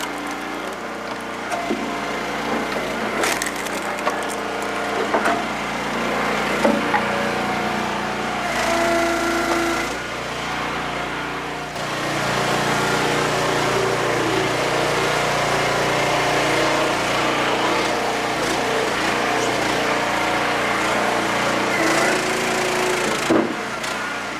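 An Eastonmade Axis log splitter works through a huge knotty oak round, its small engine droning steadily while wood creaks and cracks under the wedge, with occasional brief sharp snaps.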